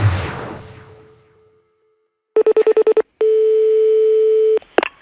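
Telephone tones from a phone booth during a prank call: a sustained dial tone, a quick run of six dialing beeps, then a longer steady tone, loud and alone, ending in a clunk.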